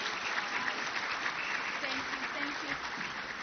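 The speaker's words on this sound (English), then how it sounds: "A big hand of applause for Orly Shamir, please, everyone." An audience breaks into steady, sustained applause at the end of a talk on the Argus II bionic eye, a dense wash of clapping with faint voices mixed in.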